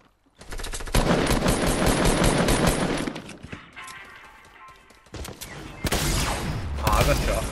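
Rapid automatic gunfire in a multiplayer shooter game, loud bursts of fire crackling nearly continuously, easing briefly midway before heavy shooting resumes, with players chattering over it.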